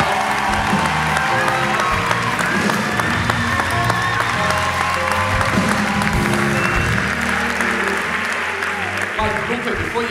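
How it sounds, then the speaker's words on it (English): Church event audience breaking into sustained applause with cheering and whoops, a dense, loud wash of clapping and crowd voices throughout. "let's give them a big round of applause"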